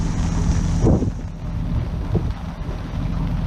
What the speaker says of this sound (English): So we just got 30 knots of wind, right?